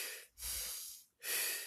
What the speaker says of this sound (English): Do this breathing: forced inhale and forced exhale.